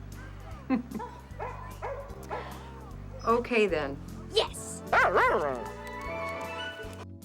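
A police dog in the movie Cop Dog barks and yips several times, then whimpers, with sharp close bursts over a steady low music bed while people talk briefly.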